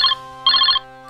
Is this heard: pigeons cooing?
no